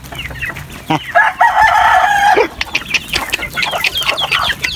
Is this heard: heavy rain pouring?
no